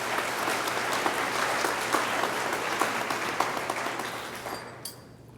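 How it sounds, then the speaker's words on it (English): Audience applause at a summer commencement ceremony, a broad, even wash of clapping with a few sharper claps standing out, fading away near the end. "Let's give him a round of applause"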